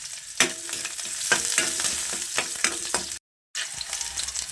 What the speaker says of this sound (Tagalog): So, nagigisa natin yung sibuyas at bawang.